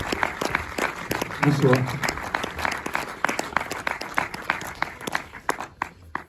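Audience applause at a screening and discussion at the Méliès cinema in Montreuil, a dense round of clapping filling the room while a voice speaks briefly over it.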